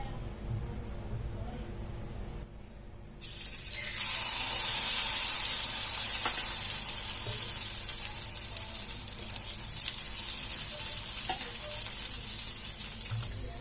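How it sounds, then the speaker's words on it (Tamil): Batter poured into hot oil in a small tempering ladle bursts into a loud, steady sizzle a few seconds in, following a quieter stretch, and it keeps hissing to the end while someone talks. "எண்ணெய் ஊத்தி சூடாயிடுச்சு. இப்ப நம்ம ரெடி பண்ணி வச்சிருக்க மாவு வந்து இதுல ஊத்திக்கலாம்."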